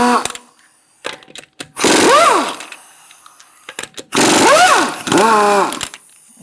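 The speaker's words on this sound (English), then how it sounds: "Using a 19mm socket, we're going to remove our lug nuts." Power tool with a 19mm socket spinning off lug nuts on a Buick Encore wheel: two loud whirring bursts, each winding up and then down in pitch, separated by short clicks and quiet gaps.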